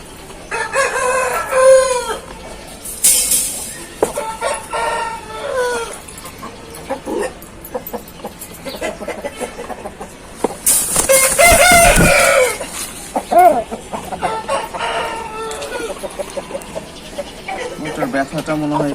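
An Aseel rooster on a farm crows loudly and clucks up close, with a dog whimpering and people talking intermittently in the background.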